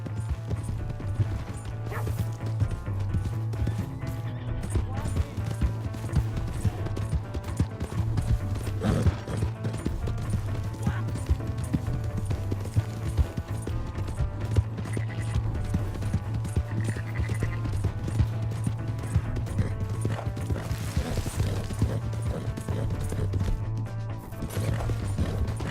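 Horse hooves clip-clop at a steady galloping rhythm in Red Dead Redemption 2, loud and continuous under a dense, busy game soundtrack.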